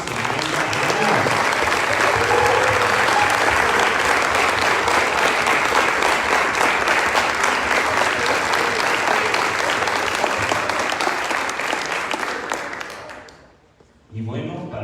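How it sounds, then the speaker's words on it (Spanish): Loud, sustained applause from a large gathering at the Diocesan Seminary of Morelia celebrating its 250th anniversary, dense clapping filling nearly the whole stretch before cutting off abruptly near the end, with voices mixed in. "Vamos a darnos nuevamente un muy fuerte aplauso"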